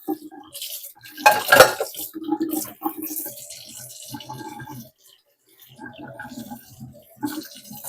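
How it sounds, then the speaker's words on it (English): Dishes, pots and cutlery clatter and clink in a home kitchen sink, with running tap water. The close, irregular knocks and scrapes come and go over several seconds, with a brief quiet pause near the end. "Now that's the dishes from yesterday."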